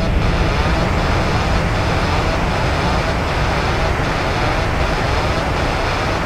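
A simulated Ryanair airliner rolls out after landing at Edinburgh with thrust reversers and speed brakes deployed, producing a loud, steady, broadband roar and rumble that fills the whole stretch.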